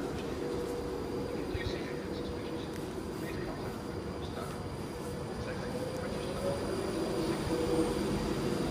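A Class 390 electric train at platform 6 of Milton Keynes Central station, bound from London Euston to Manchester Piccadilly, passes with a steady, loud rail rumble and wheel noise throughout, with faint squeals and a voice heard briefly.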